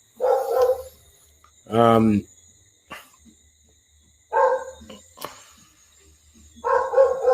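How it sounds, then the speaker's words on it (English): Several dogs barking in short bursts, spaced a second or two apart, fairly close and loud, with someone talking briefly between the barks. "You hear these dogs, like they hear my voice and they just feel like they need to make all kinds of noise"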